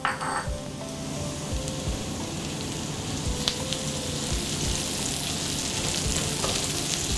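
Crushed spice mix sizzling with fried onion on a hot tava for quick tava rice: a steady, close frying hiss with faint stirring and occasional clinks of a spoon against the pan, no talking.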